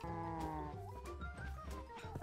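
Minecraft cows on a farm lowing in overlapping, drawn-out calls, with other farm animal bleats mixed in, a steady dense chorus at close range with no talking.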